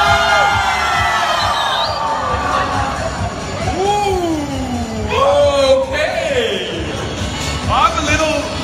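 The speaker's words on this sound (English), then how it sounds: "Make some noise for the Ford Mustang!" A motor show audience roars and whoops for the Ford Mustang, with shrill whistles sliding over loud, sustained crowd cheering and shouting.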